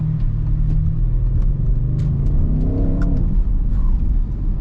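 A 2021 Audi RS6 Avant accelerating, its engine note rising in pitch as revs climb, loud and close with a steady rumbling drone throughout.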